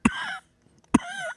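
Two harsh, raspy coughs from a character in the film Lawrence of Arabia, each a sharp burst trailing into a rough, throaty rasp, separated by a short pause.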